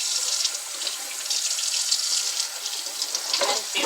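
Tap water runs steadily into a kitchen sink while fresh garden tomatoes are rinsed, a close, even hiss of flowing water with a few splashy changes near the end.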